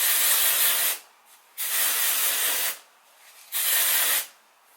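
Aerosol can of dry shampoo sprayed onto the hair roots: three close, loud, steady hissing bursts, each about a second long, separated by short pauses.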